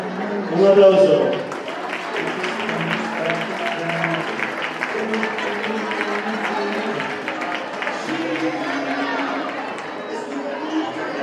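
An audience at a children's carnival costume contest in Chillón, 2020, applauds steadily for about ten seconds, a dense wash of clapping mixed with crowd chatter and a voice near the start.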